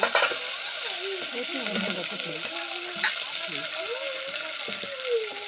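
Curry leaves crackle and sizzle steadily in hot oil in a home kitchen, a close, continuous frying hiss with brief pops, while a voice speaks over it.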